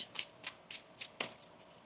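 A deck of tarot cards is shuffled in several quick, crisp riffles and snaps, close and fairly quiet, with no talking.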